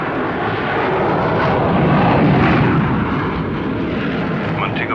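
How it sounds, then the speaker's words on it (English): Transcanada Flight 885, a jet airliner, rolls for takeoff down the runway at Montego Bay, giving a loud, steady, broadband engine roar that swells slightly midway and holds for the full stretch with no talk over it. "Transcanada Flight 885 is ready for takeoff"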